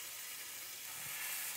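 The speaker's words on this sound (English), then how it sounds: "I'm going to put the sausage and the French toast on this griddle and put that on there." Sausage and French toast sizzle on a griddle at medium heat, a steady bright hiss and crackle, close and continuous with no talking.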